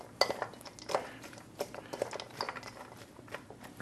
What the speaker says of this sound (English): And again, mix it all up.